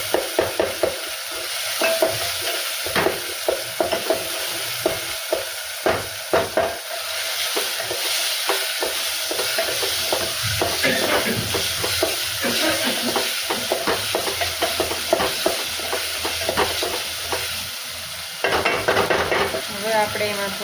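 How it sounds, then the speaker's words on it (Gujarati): Boiled potatoes and peas stirred together in a pan for potato Maggi noodles, with a steady sizzle and repeated scraping and stirring strokes, loud and close throughout. "હવે આપણે એમાં મિક્સ કરી દઈએ।"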